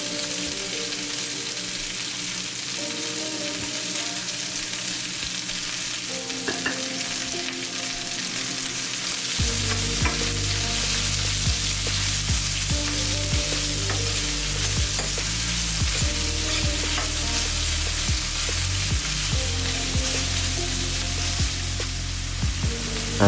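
Onions frying in a pan for butter chicken, a continuous dense sizzle that grows louder and heavier about halfway through, close and steady with faint stirring, no voices.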